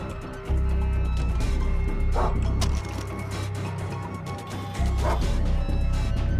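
In the video game Far Cry 3, a dog barks and yips in loud repeated bursts, with a brief whimper, set over a steady low game rumble.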